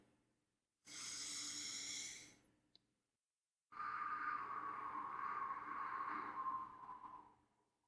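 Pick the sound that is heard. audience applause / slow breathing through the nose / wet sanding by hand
slow breathing through the nose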